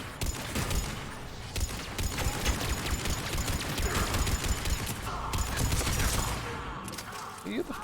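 Rapid automatic turret gunfire from the video game Mass Effect 3 rattles continuously through the whole stretch, dense and loud, with mechanical clatter mixed in and a voice talking over it.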